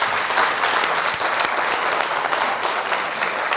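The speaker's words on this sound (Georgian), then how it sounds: "აპლოდისმენტები" Steady, full applause from a studio audience for a contestant in a school book quiz final, a dense wash of clapping heard close and continuous throughout.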